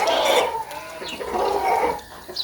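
Chickens cluck and chatter nearby in short, uneven bursts, a few overlapping calls over about two seconds.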